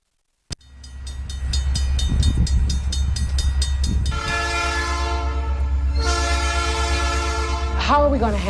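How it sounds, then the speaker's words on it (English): A train rolls past close by after a sharp bang, its heavy low rumble and clatter continuing throughout while a loud, blaring multi-tone horn sounds in long blasts over it. "this train's en route to pass through some highly populated areas"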